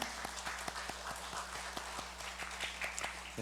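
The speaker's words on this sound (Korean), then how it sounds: "마음을 담아서 우리 축하의 박수 하겠습니다." A church congregation at a Sunday service applauds in celebration with faint, evenly paced claps that keep a steady rhythm throughout.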